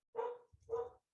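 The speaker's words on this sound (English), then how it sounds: "My dogs are barking in the background." Two distinct barks from pet dogs, evenly spaced about half a second apart, fairly faint and somewhat distant in a home setting, with no talking over them.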